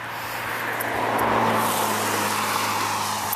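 Cars pass by on a nearby road in a steady, loud roadside rush that swells and lingers, with no voices over it.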